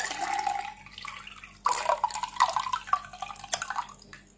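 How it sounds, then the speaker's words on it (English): Water pours and splashes into a tank being filled for a liquid level detector relay test, a steady trickle that turns louder and more turbulent midway, with dripping and gurgling. "Now I am filling with water."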